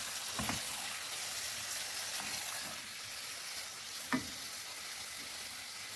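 Chicken sizzles in a pan with fresh ginger-garlic paste for a Lahori nihari, giving a steady close frying hiss with a few clinks and stirring scrapes.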